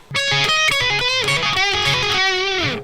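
A distorted electric guitar plays a fast lick, bent and sliding notes, loud and alone, ending on a downward slide.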